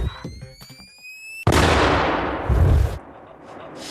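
A Bangalore Blade explosive charge detonates against concertina wire on a test range, a sudden loud blast that rolls into a long, roaring rumble and then fades, coming after brief chatter and a high electronic tone.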